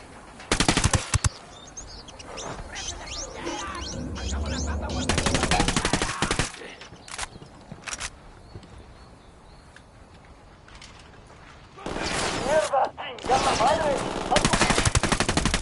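Bursts of submachine gun fire in a PS4 shooter come in loud, rapid volleys at the start, in the middle and again near the end, with quieter stretches of ambient game sound between.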